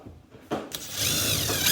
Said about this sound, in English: So I'm going to screw them down, screw that down, screw them two back ends down